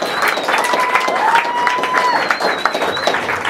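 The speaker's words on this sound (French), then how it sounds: "Applaudissez s'il vous plaît quand même." Audience at an evening street-talent event in a hall clapping and cheering, a lively crowd of hands pattering continuously at close range with some voices and whistles mixed in.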